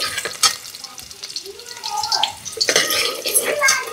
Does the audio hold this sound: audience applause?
no